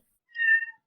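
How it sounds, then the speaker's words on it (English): A cat gives a single short, clear meow, fairly close, alone against silence. "Meow on cue."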